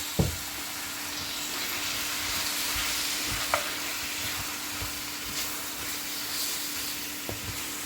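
A kilogram of small pork pieces fries in a pan for a Kerala-style pork roast, a steady close sizzle and hiss broken by a few stirring clinks and scrapes.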